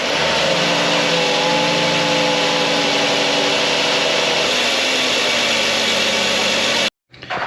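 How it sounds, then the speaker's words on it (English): A Dodge Journey 3.6L V6 runs steadily with an unhooked vacuum line, a loud, continuous engine drone with a high hissing edge throughout, ending abruptly as it cuts out near the end. "if you thought you heard a vacuum leak when I fired it up, you're right"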